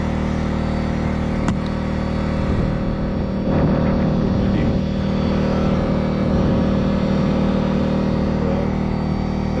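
A Reds 521 Sport model engine runs on a cold day at a pre-race test, a loud, steady high-pitched buzzing drone that swells slightly in intensity midway and holds without a break.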